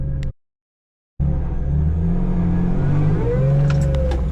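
Acura NSX first generation being driven back in, its engine rumbling loud and close after a brief dropout, with a rising tone as it pulls forward.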